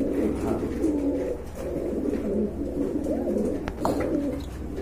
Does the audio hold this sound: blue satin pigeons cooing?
yes